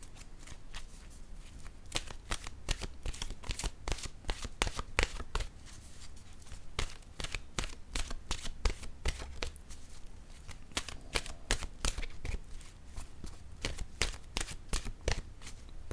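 Oracle cards are shuffled for a long stretch, a fast steady patter of crisp riffling flicks close to the listener, with no talk.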